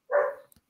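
A dog gives a single short, sharp bark nearby, standing alone in a quiet room.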